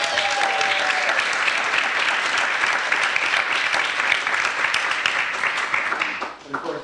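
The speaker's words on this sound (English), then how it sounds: "Let's give a big round of applause for Joel Burcat." Audience at a book launch party applauds, a dense, loud, even stretch of clapping lasting about six seconds before it tapers off near the end.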